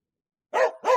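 A dog outside in a village yard barks twice in quick succession, short sharp yaps against an otherwise silent background.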